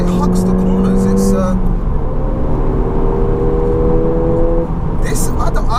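A Ford Fiesta ST drives hard, its engine droning loud and steady as it shifts into third gear and takes a corner, with a brief dip in pitch at the shift and talk over the engine near the end.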